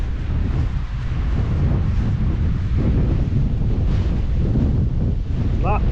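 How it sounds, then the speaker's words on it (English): Strong wind roars against the microphone on an outdoor hike, a loud, continuous buffeting rush with gusty swells and no talking. "The wind is going the wrong direction."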